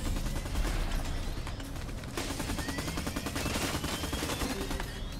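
Rapid automatic gunfire in the shooter game LawBreakers, dense overlapping bursts of shots with mechanical clatter running continuously at close range, no voices.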